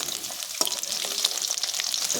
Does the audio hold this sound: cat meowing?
no